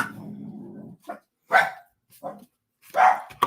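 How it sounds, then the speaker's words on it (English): A dog barks in short bursts, with a couple of louder, closer barks between pauses and a low rumbling growl-like sound at the start. "I don't know what they're barking at"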